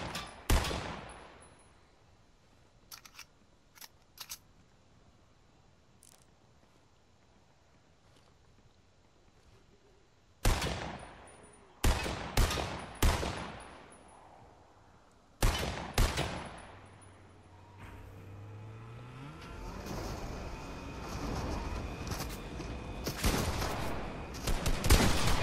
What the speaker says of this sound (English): like I have used the assault rifle then the shotgun